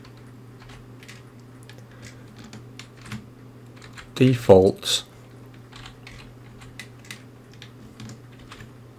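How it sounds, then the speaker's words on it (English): Keys clatter in a short, close burst of typing on a computer keyboard while playing Lego Worlds, over a low steady hum with faint background clicks. "it's hard to type on this keyboard because I've got a giant microphone right in front of it"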